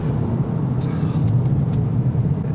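Toyota GR Yaris 2021 on a B road, a steady low engine and road drone from inside the car with a constant rumbling tone and a few faint ticks above it.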